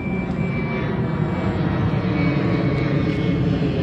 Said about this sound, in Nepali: अनि त्यही भएर प्लेनहरू उडेको